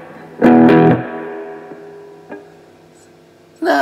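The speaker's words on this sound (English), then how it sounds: "it is a distortion channel" A loud distorted guitar chord rings out through an amplifier's distortion channel with a steady buzz underneath, followed by a quieter plucked note and a second loud strum at the end.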